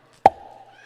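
A single sharp mouth pop made by tapping the jaw, imitating a bottle being opened, with a short hollow ring fading after it.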